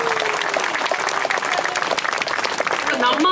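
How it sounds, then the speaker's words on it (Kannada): Roopa Nagara residents at a community meeting break into vigorous applause, a busy crackle of many clapping hands, with a voice rising faintly over it near the end. "ಬಹುಶಃ ಅದಕ್ಕೊಂದು ಜೋರಾದ ಚಪ್ಪಾಳೆ ಬರಲಿ ಅಲ್ವಾ."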